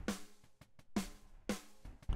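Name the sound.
snare drum on snare bus alone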